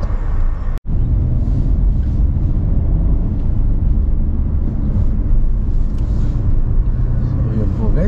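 Steady low rumble of road traffic from inside a moving car in slow, congested traffic, a continuous engine and tire drone with brief swells, loud and close, with voices talking faintly over it.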